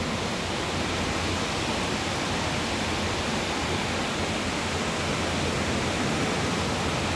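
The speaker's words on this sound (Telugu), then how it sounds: "వాటర్ ఫ్లో అవుతూ ఉంది అటు సైడ్." Water in a nearby stream rushes in a loud, unbroken roar of dense hiss that holds steady the whole time, with no speech over it.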